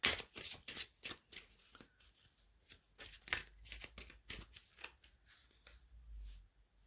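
A deck of oracle cards being shuffled and cut by hand: a rapid series of crisp riffling slaps and flicks at close range, quiet overall, with a soft low thump near the end.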